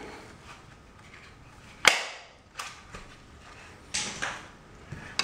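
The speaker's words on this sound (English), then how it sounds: "pull that back, put the gun on, go back and forth like this" An MLT tile leveling gun works a clip loose from marble tile: a sharp snap, then a few softer clicks and rattles as the tool rocks back and forth, close and fairly quiet.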